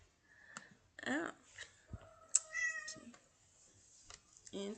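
A pet cat meows several times in short, uneven calls, close and clear, with some clicking and scraping noises mixed in.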